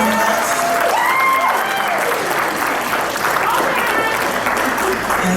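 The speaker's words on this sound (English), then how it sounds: "How about a big round of applause for our band?" Loud, sustained applause from an audience at a Tausala and Manaia pageant competition, steady throughout with crowd noise and scattered cheering mixed in.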